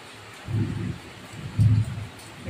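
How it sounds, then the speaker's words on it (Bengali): Low rumbling thunder rolls through a heavy afternoon downpour, two deep swells rising out of the steady rain, the second louder, with no talking. "মুষলধারে বৃষ্টি, দুপুরের বৃষ্টি, তেমনি মেঘ ডাকছে, জোরে জোরে মেঘ"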